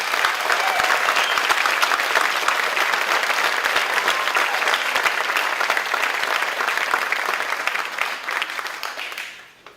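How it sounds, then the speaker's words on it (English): A large audience at a high school honors night applauds honored students: sustained, dense clapping that holds steady for several seconds, then fades out at the end. "Let's give them a round of applause"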